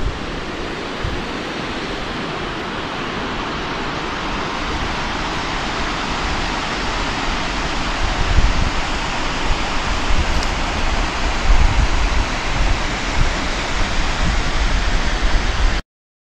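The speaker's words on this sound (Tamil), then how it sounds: "பாருங்க இங்கே ஒரு அருவி, இந்த பக்கத்தில் ஒரு அருவி" A waterfall beside a hill village and estate gives a constant broadband rush, a steady roar with no break, slightly swelling in the latter half, and no voices.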